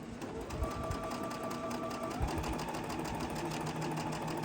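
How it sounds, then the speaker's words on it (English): A sewing machine stitches quilt block pieces along a marked line, running in a steady continuous whir with a fast mechanical pulse throughout, close and fairly loud with no talk. "So now let's go ahead and sew them. So we're going to sew on the line."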